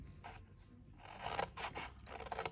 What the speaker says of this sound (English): I'm going to cut up the crease line there